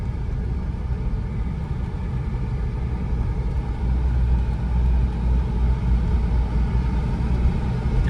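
A Corvette with a fiberglass body running at a dealer auction, a steady low engine rumble close by, constant and even throughout with no voices.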